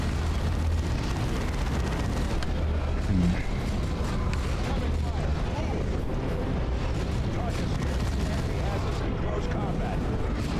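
Grenade blasts and gunfire from Warhammer 40K: Dawn of War 2 Chaos Rising battle rumble continuously, a dense, loud low roar of explosions with a brief sharper boom early on, and a voice talks over the din.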